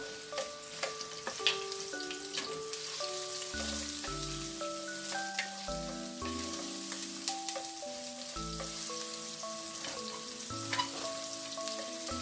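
Ginger frying in cooking oil in a preheated pan, with a steady soft sizzle throughout and scattered clinks and tonal utensil sounds over it, no talking.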